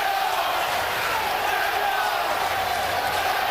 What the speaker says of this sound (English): And the crowd at ringside chanting, Zeljko, Zeljko.